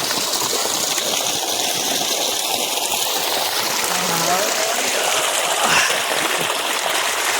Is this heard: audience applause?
no